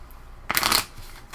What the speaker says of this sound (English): I get to shuffle my discard pile.